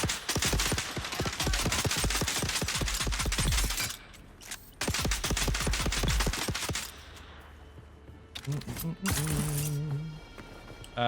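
Rapid automatic gunfire in Dune Awakening, loud and close, in long sustained bursts separated by brief pauses, with a few sharper electronic weapon sounds near the end.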